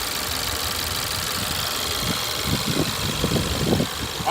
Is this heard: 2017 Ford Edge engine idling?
yes